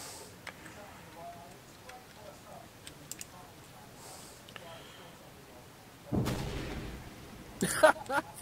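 A frag grenade detonates in a tactical shooter video game, a sudden loud burst after a quiet stretch, followed by a second sharp crack and rumble near the end.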